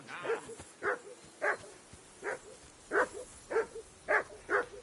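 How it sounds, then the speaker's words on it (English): A dog in Kingdom Come: Deliverance II barks about eight times in a steady rhythm, at moderate distance, with nothing else around it. "That dog of yours is barking like the devil."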